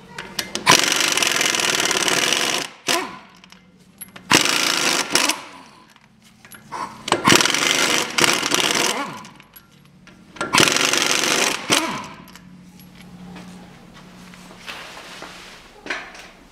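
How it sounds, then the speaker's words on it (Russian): Loosening rear brake bolts on a Land Rover Defender with a 17 mm socket, heard as four loud bursts of a power tool of a few seconds each, separated by short pauses, with lighter clicks and handling noise after them. "Берем головку на 17 и откручиваем болты."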